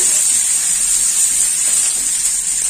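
Chopped onion and garlic sautéing in a pan for Tamil karamani poriyal (long beans stir-fry): a loud, steady, close frying hiss that continues without break and has no talk over it.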